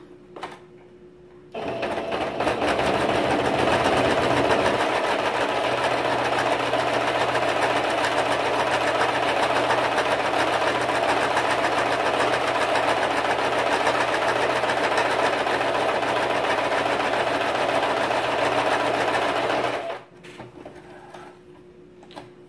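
A sewing machine running stitch 3 with a standard presser foot makes a steady, fast mechanical whir and tapping that runs unbroken for about eighteen seconds, then stops.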